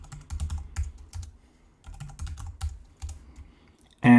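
Keystrokes on a computer keyboard while a root password is entered during an Arch Linux install, with quick clustered taps in short bursts and pauses, close and fairly clear.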